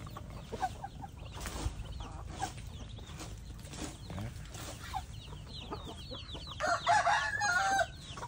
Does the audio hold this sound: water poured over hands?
no